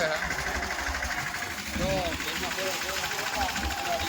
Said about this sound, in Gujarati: લો આ ટ્રેક્ટર આગે છે